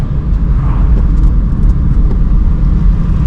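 A car drives at low-to-moderate speed while the driver shifts down into third gear, giving a steady, close engine rumble and road noise that continues without a break and with no talk.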